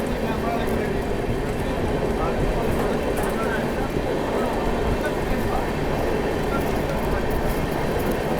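Shiv Ganga SF Express rolling fast on its run between Banaras and New Delhi: a dense, constant rumble and clatter of wheels on rails, loud and steady from inside the train.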